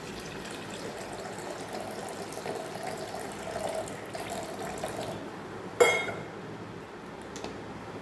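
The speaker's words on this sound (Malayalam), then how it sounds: "ആവശ്യത്തിന് വെള്ളം ചേർക്കാം." Water pouring steadily into a mixer jar holding green mango, ginger, cashews and cardamom, a soft continuous trickle that ends with a sharp clink of the jar, then quieter handling.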